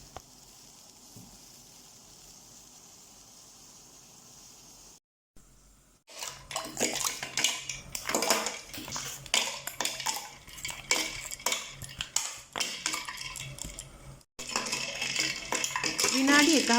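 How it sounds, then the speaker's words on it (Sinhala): Ice cubes added to a bowl of ice water while making homemade dried black lime, heard as clinking, rattling knocks and splashes against the bowl after a quiet start, close and busy, with a brief pause midway. "මේ විදිහට භාජනයකට අයිස් වතුරට අයිස් කැට ටිකක් එකතු කරන්න"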